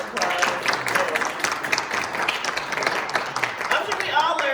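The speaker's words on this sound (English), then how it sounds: "let's give another round of applause." An audience gives a round of applause at a talk about the Black Horsemen of Kansas City, a fairly close clatter of clapping mixed with overlapping voices and cheering.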